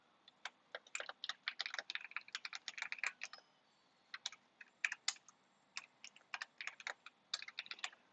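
Quick, uneven bursts of keystrokes clatter on a computer keyboard, close and fairly quiet, with a brief pause midway before the typing resumes.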